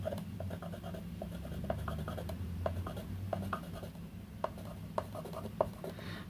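Pencil lead scratching and rubbing across paper to shade a drawing, a steady soft rasp broken by brief sharper strokes, close and quiet with no voices.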